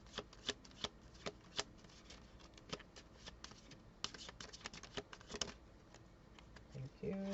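A deck of tarot cards riffled and shuffled close by in a quiet room, giving rapid papery flutters and sharp snaps in irregular bursts, with no talking.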